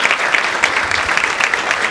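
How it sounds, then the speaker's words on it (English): Sustained applause from a conference audience, dense and steady clapping filling the whole stretch at close range with no speech over it. "a round of applause for your dean, please"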